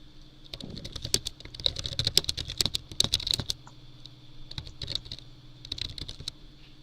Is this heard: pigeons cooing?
no